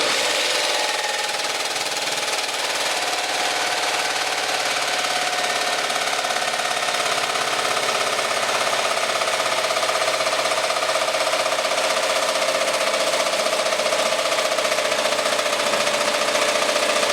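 Jigsaw cutting through steel sheet, a continuous harsh buzzing rasp with a steady metallic whine, loud and close throughout with no pauses.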